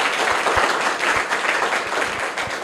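Steady applause from a crowd for student prize winners at a school, dense clapping at an even loudness throughout with no voices standing out.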